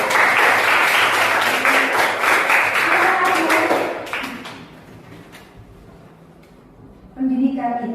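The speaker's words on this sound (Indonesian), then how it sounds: "Tepuk tangan buat saya" Loud group applause from a classroom rings out for several seconds, then dies away into quiet before a voice begins speaking.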